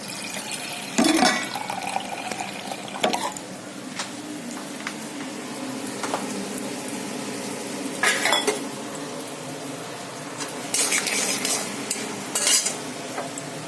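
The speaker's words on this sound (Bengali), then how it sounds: "একটু কর্ন একটু জল ভরে নিই।" Corn and water go into a pan on the stove during dinner cooking, with a spoon clinking and scraping as it stirs, a few sharper clatters standing out over a low background sizzle.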